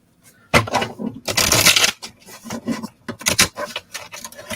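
A deck of oracle cards being shuffled, giving bursts of papery riffling and rubbing, one long loud run in the middle and several shorter flicks after it, close up with no talking.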